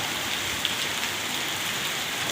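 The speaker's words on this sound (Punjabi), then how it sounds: "ਰਾਮਪਰਾ ਸ਼ਹਿਰ ਦੇ ਵਿੱਚ ਭਾਰੀ بارش ਹੋਈ ਹੈ" Heavy rain pours steadily in Rampura Phul, Punjab, a dense, loud hiss of drops hitting surfaces with no pauses.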